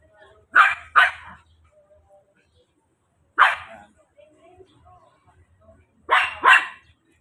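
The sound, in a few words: dogs barking while being walked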